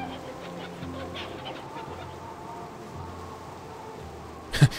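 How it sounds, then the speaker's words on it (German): A chicken in Baldur's Gate Enhanced Edition gives honking, goose-like calls from a distance under game ambience, ending in one louder close squawk. "Ah, da ist das Huhn."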